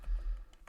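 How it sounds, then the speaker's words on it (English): A Ctrl B shortcut typed on a computer keyboard, a few soft, close key taps in quick succession over a low background thump, very brief. "I can do the Ctrl B with the keyboard there and carry on and type."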